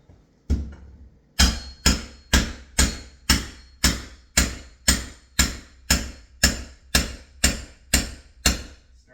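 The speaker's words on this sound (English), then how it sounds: "I'm going to use my Rex tool to look to move in on my deadbolt" A Rex tool strikes at a deadbolt on an outward-swinging door, giving a regular series of about fourteen loud, sharp metallic blows, each ringing briefly before the next.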